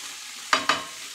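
Stir fry with two tablespoons of water added to a hot pan for pad thai, giving two sharp sizzling bursts in quick succession that hiss and fade quickly, close and alone.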